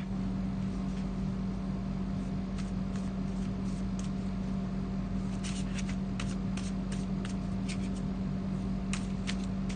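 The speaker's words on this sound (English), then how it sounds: "So I'm just going to have a little shuffle, pop down our card for the day." Soft papery riffling of tarot cards being shuffled in short bursts, close by, over a steady low background hum.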